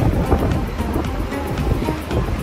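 Monsoon sea waves crash along the Goa coast, a loud, continuous rushing surge mixed with wind buffeting the microphone, with no talking.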